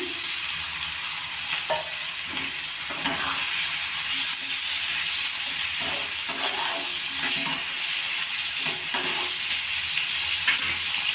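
Chicken and potato curry being stirred in a pot, a steady sizzle and frying hiss with soft scraping strokes of a spoon recurring every second or so, close and alone.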